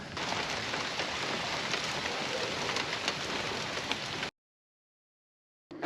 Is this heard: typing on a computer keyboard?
no